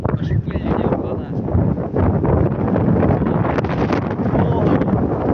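Strong storm wind roaring into the microphone outdoors, a constant loud buffeting rush with gusts, people talking beneath it.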